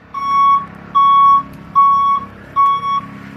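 A California school bus sounds its reverse alarm during a pre-trip inspection, giving four loud, evenly spaced beeps, each about half a second long, with short gaps between them.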